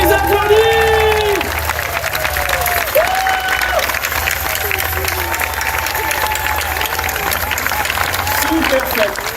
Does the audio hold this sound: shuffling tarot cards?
no